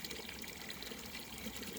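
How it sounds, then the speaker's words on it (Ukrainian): A natural spring pours water in a continuous, even rush that holds steady at a faint level from start to finish, with no voices. "хочу вам показати природнє джерело, який напір води"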